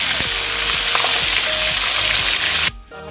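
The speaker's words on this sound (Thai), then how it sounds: "ปล่อยไว้นี้ค่ะจนกว่า เนื้อปลาก็จะเข้ารูปดีก่อน ไม่งั้นจะติดกระทะ" Tilapia sizzles loudly in a pan of hot oil, a dense continuous frying hiss close up with occasional soft scrapes, cutting off abruptly near the end.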